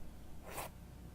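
A single close-miked mouth imitation of a zipper: one brief breathy rasp at mid-clip, right against the microphone, over a low steady hum, with no talking.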